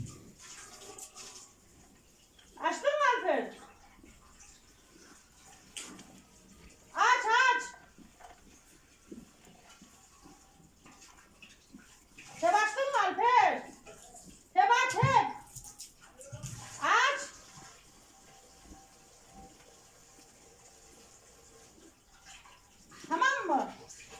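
Water running from an outdoor fountain tap while things are washed under it, splashing in several separate bursts against quiet pauses, with occasional voices nearby.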